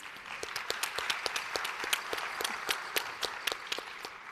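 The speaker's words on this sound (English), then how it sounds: "Let's give him a round of applause, please." An audience applauds, a steady wash of many hands clapping at once, sustained and fairly loud with no talking.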